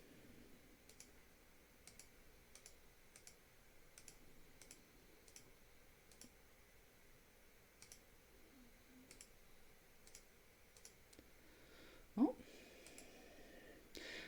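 Keys pressed on a TI-83 calculator give faint, evenly spaced clicks at a steady rhythm in a quiet room, with one brief louder knock near the end.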